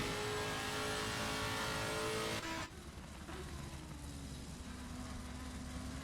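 GT race car in Assetto Corsa Competizione climbing uphill at Bathurst, a loud high engine howl under hard acceleration that abruptly drops to a quieter, lower drone after about two and a half seconds.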